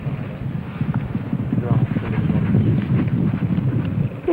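A horse trots at a royal stable in 1969, its steady clip-clop hoofbeats running continuously beneath wind buffeting the microphone and indistinct voices.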